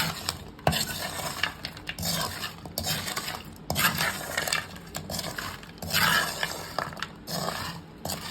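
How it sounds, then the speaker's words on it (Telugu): Homemade lemon pickle being stirred and mixed in a pot, with scraping and clinking of a spoon against metal throughout, fairly close and alone with no talk. "ఇప్పుడైతే బాగా మిక్స్ చేసుకోవాలి"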